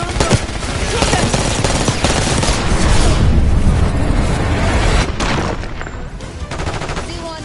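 Dense automatic gunfire and bursts rattle nonstop in a Black Ops 6 campaign mission, loud and close, with booming impacts mixed into the firefight and shouted voices under the din.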